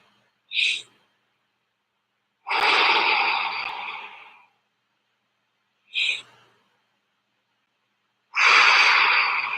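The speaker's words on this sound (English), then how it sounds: "I just want 5 big breaths in and out." Deep breaths during stretching: two cycles of a short sharp inhale followed by a long, loud rushing exhale, close and isolated against silence.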